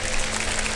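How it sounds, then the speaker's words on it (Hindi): Studio audience applause at a Ramadan iftar television show, a dense, continuous wash of clapping from a large crowd, loud and close throughout the brief moment. "ये ऑडियंस कितनी जोरदार तालियां बजाएगी अभी तुम्हारे लिए"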